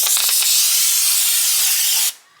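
An aerosol can sprays in one steady, loud, close hiss for about two seconds before cutting off abruptly, leaving a quiet tail.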